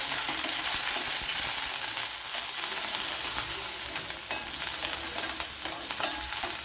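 Curry leaves, a small piece of ginger and two green chillies sizzle and fry steadily in a pan, a dense continuous crackle with occasional stirring clinks and no talking.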